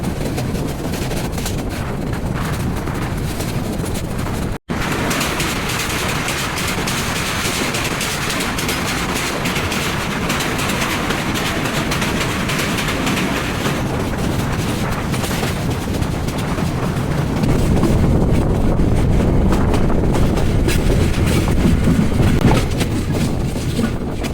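The Parabat Express intercity train pulls into Khanabari railway station during a storm, a steady loud rumble of rolling wagons with heavy wind buffeting the microphone, growing heavier and lower near the end.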